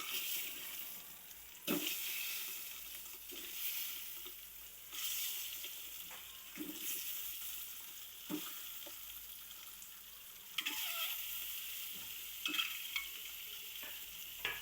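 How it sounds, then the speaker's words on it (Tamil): Eggs crackle and sizzle in hot oil for an egg gravy, with stirring scrapes and occasional bursts of spattering, steady frying hiss throughout. "நீங்கள் முட்டை போடும் போது தெரிக்கும்"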